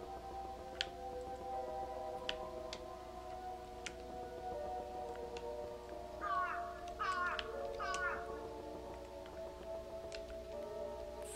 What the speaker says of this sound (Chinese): 好可爱，乌鸦叫。